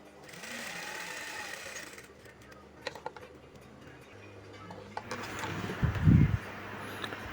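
A sewing machine double-stitches a shirt cuff, leaving a half-inch opening, with a steady mechanical whir running for the first second or so, then quieter bursts of stitching and handling noise, ending in a brief louder rumble.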